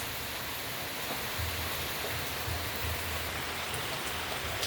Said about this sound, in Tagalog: patuloy pa rin ang ulan